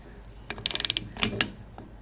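A torque wrench ratchets on the rocker boxes of a Harley Davidson Shovelhead engine, giving a quick run of about seven sharp metallic clicks, then a few more spaced clicks, close up.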